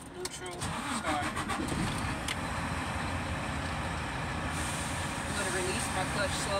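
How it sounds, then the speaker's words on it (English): A Class A truck's diesel engine cranks with a quick burst of starter clicks, then catches and settles into a loud, steady idle rumble nearby. "So I will go ahead and safe start my vehicle. Clutch down, neutral, start."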